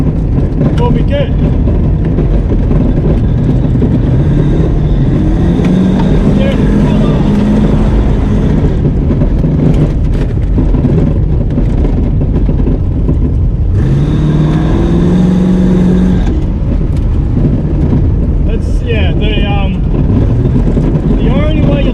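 Toyota Cressida car engine droning while cruising on the street, a steady loud hum with occasional rising pitch as it accelerates, heard from inside the cabin beneath people talking.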